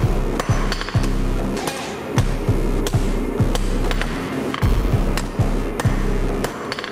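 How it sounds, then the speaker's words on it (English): Steady, ringing hammer blows on an anvil while forging the tines of an iron caltrop straight, loud and close with a quick irregular rhythm and metallic clinks between strikes. "forging them out, making sure they're straight and neat."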